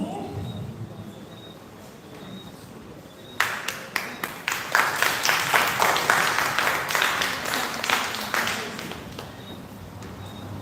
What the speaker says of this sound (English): Let's give Mr. Moya another round of applause, please.